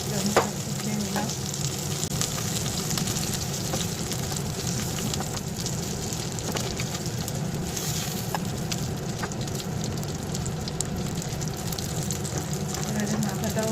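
Bhola fish fry in hot oil with a steady, dense sizzle and crackle close by. Occasional sharper pops and stirring clicks sound over it throughout.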